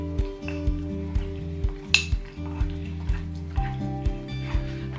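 Mug gingerbread batter of milk and treacle stirred in a mug, a regular rhythm of spoon scrapes and light clinks against the sides, close and fairly quiet over a steady low hum.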